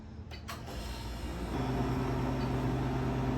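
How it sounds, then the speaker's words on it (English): A freeze dryer runs as a steady mechanical hum with a low tonal drone that grows louder and fuller after the first second and a half, then holds evenly with nothing else over it. "My freeze dryer has been running for about 31 hours"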